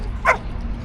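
A single short, sharp bark from a dog, likely an Australian shepherd, heard at moderate distance over steady outdoor background noise in a town setting.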